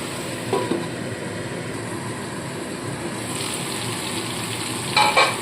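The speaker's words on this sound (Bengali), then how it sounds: "এবার ঢাকা চাপা দিয়ে মশলাটাকে ভালো করে কষিয়ে নিতে হবে" A masala spice paste fries steadily under a lid in a covered pan, a soft continuous sizzle with a couple of brief brighter crackles near the end.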